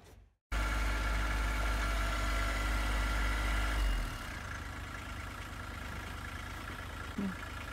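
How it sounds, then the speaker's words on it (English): Kubota B2650 loader tractor engine running outdoors in deep snow, a steady loud idling drone that drops to a lower, quieter rumble partway through and keeps going to the end. "it looks like Richie got the tractor out"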